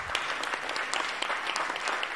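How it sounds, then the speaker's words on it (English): An audience at an agro-industry strategy launch applauds for farmers, steady, even clapping from many hands filling the room throughout. "applaud for them, make a clap for them."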